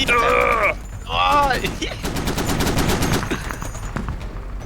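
Rapid bursts of gunfire from the military shooter game Squad crackle close and loud, with repeated automatic shots over a few seconds while a person speaks briefly.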